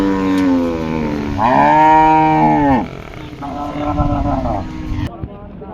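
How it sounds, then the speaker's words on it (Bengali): Cattle at a busy cow market in Rajshahi low loudly in long drawn-out moos, one big call in the middle and a fainter one after, with people talking underneath. "এই পাশে একটা গাই বাছুর দেখা যাচ্ছে নাকি"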